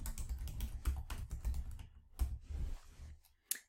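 Fast, close typing on a computer keyboard, bursts of clattering keystrokes with short pauses and one final sharp key press.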